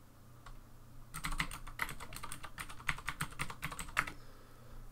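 Fingers tapping a computer keyboard in a quiet room, a burst of rapid close clicks and keystrokes over a low hum, with no one speaking.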